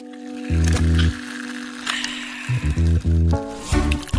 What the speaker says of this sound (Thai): จากนั้นเทน้ำอัดลม